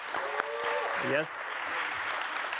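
Applause from an audience at an anti-racism and climate justice event, a steady patter of clapping running beneath a speaker's brief words from the stage.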